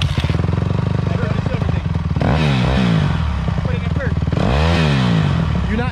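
Dirt bike engine starting up and idling with a rapid popping putter, then revved twice in rising and falling bursts, loud and close, with voices talking over it.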